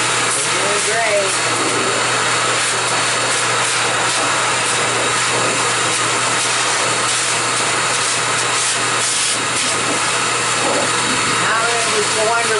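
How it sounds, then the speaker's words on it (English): High-velocity pet dryer roars steadily and loudly across a husky's thick coat, a constant broadband blast with a low hum beneath, while a voice talks faintly under the noise. "I'm going to keep my dryer going in a circular motion, back and forth"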